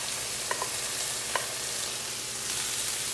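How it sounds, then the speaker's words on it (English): Vegetables sauté in a pan on a stove turned down low for shrimp and grits, giving a soft continuous sizzle with a couple of faint clinks of a utensil. "I'm gonna go ahead and saute these vegetables"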